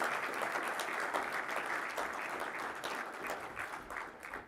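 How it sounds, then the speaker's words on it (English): Audience at a Philippine-German business forum gives a sustained round of applause, many hands clapping densely and fairly quietly, fading slightly toward the end. "And a warm applause."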